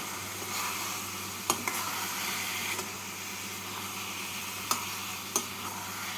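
Finely grated radish with spices and coconut sizzles softly in a pan as it is stirred, a steady low frying hiss broken by a few light spatula taps, no voices.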